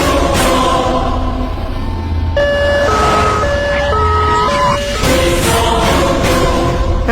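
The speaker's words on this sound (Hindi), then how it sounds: "एम्बुलेंस आ गई।" An ambulance siren wails loud and close, its tone stepping up and down in a repeating pattern over a rumbling road-vehicle background, with no talking.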